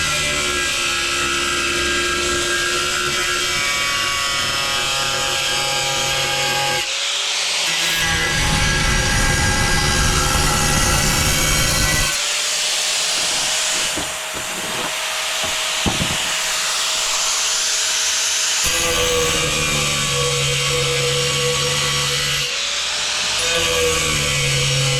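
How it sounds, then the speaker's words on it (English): Angle grinder cutting a round hole in porcelain tile, a steady loud whining grind that runs almost the whole time, with its pitch and tone shifting between passes and briefly easing midway. "Don't push down, just let the grinder do the work, the weight of the grinder."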